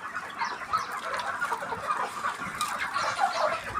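Broiler chickens, 42 days old, cluck together as a steady, busy flock, with dense overlapping calls close by and no pauses.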